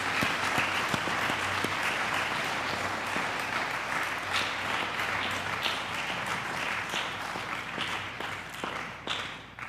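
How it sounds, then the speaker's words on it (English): Sustained applause from a large church congregation at a Catholic Mass, dense steady clapping that continues throughout and begins to thin out near the end. "Let's clap for ourselves."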